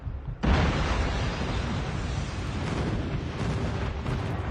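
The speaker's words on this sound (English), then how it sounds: "Friendly airstrike incoming." Airstrike explosions in the shooter game COD Mobile, a sudden loud blast followed by a sustained, roaring rumble of continuous detonations that persists without letup.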